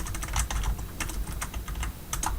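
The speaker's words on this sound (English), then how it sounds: "you could go to the asset store and you could type in" Close, brisk typing on a computer keyboard, a quick run of light key clicks with small pauses between them.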